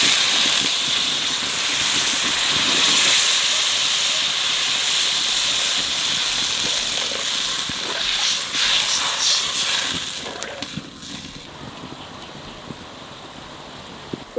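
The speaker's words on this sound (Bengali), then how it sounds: "জল ভালো করে ফুটিয়ে গেছে" Water with spices for a chitol fish curry comes to a rolling boil, giving a steady, loud hiss of steam and bubbling that holds close and even, then thins and eases in the final few seconds.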